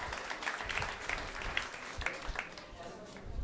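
Audience applause at a charity jazz concert for the performers, a fairly soft patter of clapping hands from a modest crowd with a voice talking over it.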